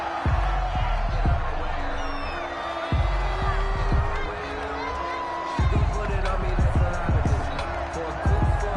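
Broad stadium crowd roar in an American football video game on PS4, a steady swelling cheer under a game commentator's talk, with repeated sharp thuds and bursts of louder noise.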